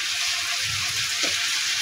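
Washed chicken pieces sizzle and hiss steadily in a hot oiled pot for biryani, with a soft scrape of stirring partway through and no talking.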